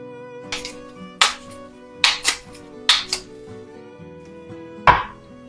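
A kitchen knife chops food in half on a cutting board with about five sharp, close knocks at uneven intervals, with quiet stretches between them.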